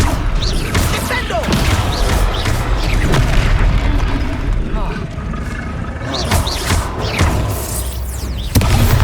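Heavy booming impacts from a Descendo spell slamming a troll down in Hogwarts Legacy, deep and loud over a dense, continuous roar of battle noise, with a few sharper crashes standing out.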